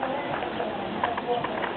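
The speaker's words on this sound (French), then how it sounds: "Donc là la jument est au galop à droite" A mare cantering on the right lead during a riding-club display of set figures, her hoofbeats a steady rolling rhythm heard under a voice talking throughout.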